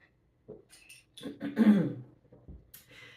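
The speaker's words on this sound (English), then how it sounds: "Let me clear my throat." A single person clears their throat with a few rough, gravelly bursts, fairly close and loud, with short pauses between them and no talking.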